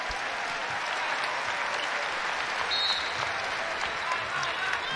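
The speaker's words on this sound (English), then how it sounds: "India Rogers getting a hand from this crowd." A college women's basketball crowd in an arena in Eugene applauding, sustained clapping that fills the space evenly, with a commentator talking over it.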